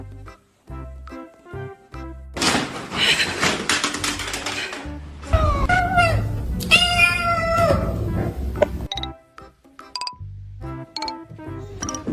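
A cat inside a car lets out several loud, close meows over about six seconds, framed by quieter tapping and clicking sounds at the start and end.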